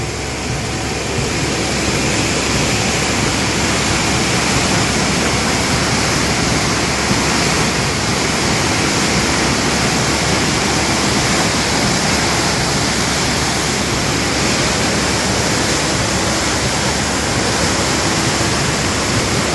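Dam water roars as it overflows, a loud, unbroken rush of churning water with no voices.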